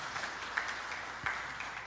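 A church congregation gives lively applause for Jesus, a steady wash of many hands clapping, moderately loud and continuous with a few sharper claps standing out.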